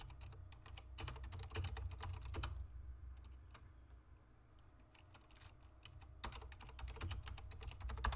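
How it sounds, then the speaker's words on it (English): Quick bursts of typing on a computer keyboard, rapid clustered key clicks with a quieter pause in the middle before another flurry, close and faint over a low hum. "Just failing at typing."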